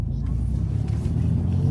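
A BMW 1 Series F20 fitted with an aftermarket exhaust gives a low, soft burble while driving, a quiet rumble heard from inside the car.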